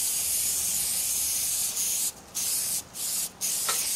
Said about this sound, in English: you have to get over on that side and then spray it like you just did